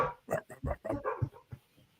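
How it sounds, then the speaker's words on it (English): A pet dog lets out a quick string of sharp barks, several in rapid succession, fairly close and moderately loud. "So, dog's going. Yeah, my dog."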